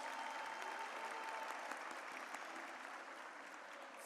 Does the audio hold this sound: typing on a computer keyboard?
no